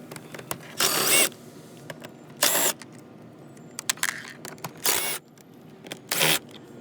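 A ratchet works four 7mm bolts out of the mirror switch bezel inside a 2014-2019 GM Silverado or Sierra truck. Five short, sharp bursts of rapid clicking sound close by, separated by quiet pauses.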